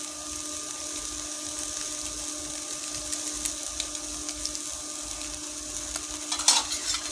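Noodles being stirred with a spice mix in a pan, a steady scraping and rustling with a soft sizzle underneath, close and continuous, with a sharper clatter near the end and no talking.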